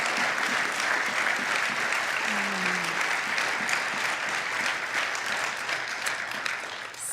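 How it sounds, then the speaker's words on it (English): A live audience at an evening literary reading by author Luis Alberto Urrea applauds in steady, dense clapping that holds for the whole stretch and fades slightly at the very end. "Let's give another warm round of applause for Luis Urrea."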